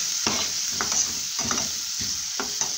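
White onion sautés in melted margarine in a pan, a continuous close sizzle with several soft scraping stirs at roughly half-second intervals, no voices.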